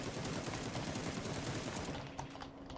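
Assault rifle fire in PUBG, a dense, continuous automatic burst that fills the sound for about two seconds, then tapers into a few scattered shots and a ringing tail.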